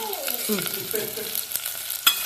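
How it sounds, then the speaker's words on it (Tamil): Onions, green chilies and curry leaves tossed into popping mustard seeds in hot oil, a ladle scraping and stirring them; a soft continuous sizzle under several distinct scrapes and a sharper clink near the end. "கடுகு பொரியும் போதே நம்ம வெங்காயம் பச்சை மிளகா கருவாப்பில் எல்லாத்தையும் சேர்த்துக்கலாங்க கொஞ்சம் கரண்டி வச்சு"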